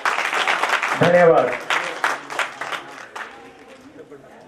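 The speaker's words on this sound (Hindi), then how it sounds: "कृपया तालियों से स्वागत करें" Audience clapping for schoolchildren collecting prizes at a Republic Day function in Jadera, Chamba, a burst of applause that swells early and then thins out, with a voice speaking over it.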